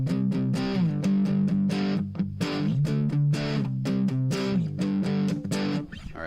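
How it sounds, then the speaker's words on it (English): A heavily distorted electric guitar plays a chugging rhythmic riff, loud and close, with crunchy sustained chords and sharp choppy breaks. "Let's play that riff again, or that rhythm again, with distortion."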